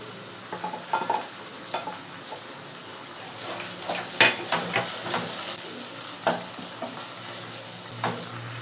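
Cashew paste and ginger garlic paste sautéing in a pan, with a soft steady sizzle and irregular scraping, tapping strokes of a spoon stirring, fairly quiet and close.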